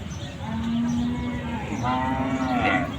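Cattle low with a long, drawn-out moo followed by a second rising call at a busy Bangladeshi bull cattle market, the calls loud and close over a steady crowd murmur.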